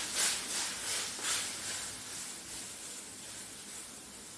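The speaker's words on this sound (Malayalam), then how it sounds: "ഇനിയിപ്പോൾ നല്ലപോലെ തിളച്ച് തുടങ്ങി." Water boiling in a pot on the stove, a steady soft hiss with faint bubbling throughout, a little stronger in the opening second and a half.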